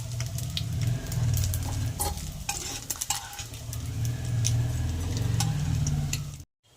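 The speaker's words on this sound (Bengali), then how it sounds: "শুটকি মাছ ভাজা আমার প্রায় হয়ে গেছে" Dried fish frying in hot oil for a curry, sizzling steadily with repeated scraping stirs and sharp ticking pops of the spatula against the pan, close and continuous until it cuts off at the end.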